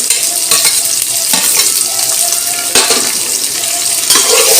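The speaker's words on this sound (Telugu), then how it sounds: "ఆనియన్స్ వేసుకొని కొద్దిగా బాగా తిప్పుకుందాం ఒకసారి" Onions, curry leaves, cumin and mustard seeds frying for Kurnool-style uggani, a loud continuous sizzle under repeated scraping strokes of a spoon in the pan.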